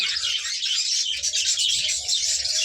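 Budgerigars in a breeding colony with nest pots chatter and chirp continuously, a dense bright twittering that fills the space, near and steady without voices.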